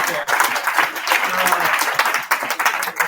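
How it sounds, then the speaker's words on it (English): Audience applause for a team of four at a blockchain dApp team-building gala, a dense, steady wash of many hands clapping with some voices mixed in. "applause."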